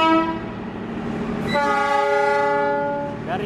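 Locomotive horns of CC 206 and CC 203 engines at Sidotopo sound in two loud, sustained chords, the second brighter and longer, ringing out close against rail-yard rumble.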